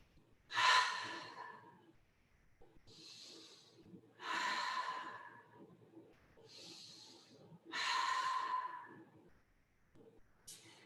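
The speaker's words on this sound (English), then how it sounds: "exhaling through the mouth" Deep yoga breathing, alternating inhales through the nose and exhales through the mouth: three loud, airy exhales that alternate with three softer inhales, slow and evenly paced, close to the microphone, with no words spoken.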